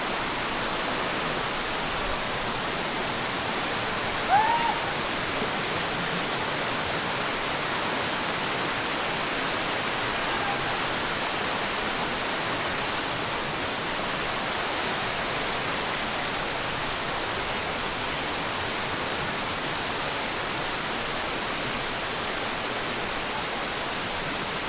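A stream current flows steadily as a constant broadband rush, unbroken and moderately loud for the whole stretch, with no voices.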